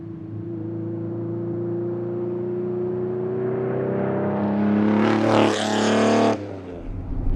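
A Koenig Specials Ferrari Testarossa, an 1980s supercar, with a loud engine droning steadily and then swelling into a roaring rev before cutting off abruptly, heard up close and alone.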